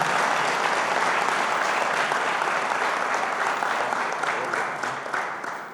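A church congregation breaks into loud, sustained applause for Aldo Reyes, a thick wash of many clapping hands that holds steady and then gradually tapers off toward the end.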